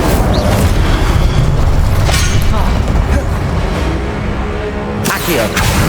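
Incendio fire spells cast in Hogwarts Legacy as a loud continuous roaring whoosh and booming burst, with a couple of sharper flaring hits and a spoken incantation partway through.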